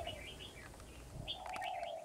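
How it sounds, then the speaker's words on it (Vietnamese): Bird call played from a bird-luring speaker, a series of chirping, warbling phrases repeating close and clear against a steady low hum, no talking. "em giới thiệu cho các bác cái loa gọi chim để thu phục chim về các bác nhá"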